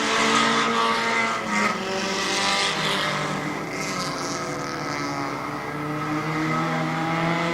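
Race cars roar around the Barberton Raceway Park track, a loud, continuous engine drone that rises and falls in pitch as the cars sweep past at close range.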